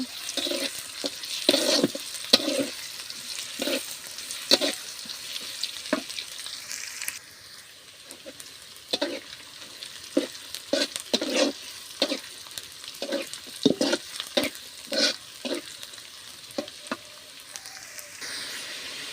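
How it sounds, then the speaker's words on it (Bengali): Chopped onion with cardamom, cloves, peppercorns and cinnamon sizzles in oil in a wok, while a spatula scrapes through it in repeated rhythmic strokes. The frying hiss stays continuous under the stirring, and no one talks. "কড়াইতে তেল দিয়ে পেঁয়াজ কুচি দিয়েছি এলাচ লবঙ্গ গোলমরিচ দারচিনি দিয়ে দিয়েছি"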